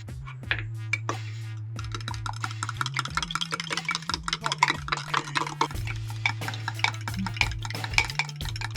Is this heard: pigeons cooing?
no